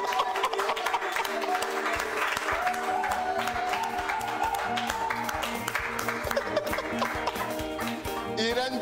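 Church congregation applauding and cheering to acclaim God: steady crowd clapping with cheers and voices, heard under music and speech at moderate volume throughout.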